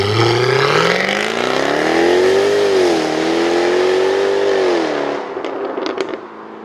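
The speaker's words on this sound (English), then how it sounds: "rasping exhaust note on these cars" A Jaguar F-Type from 2014 revs hard, its rasping exhaust note climbing in pitch, holding a loud sustained howl, then dropping off near the end into a few sharp crackles and pops.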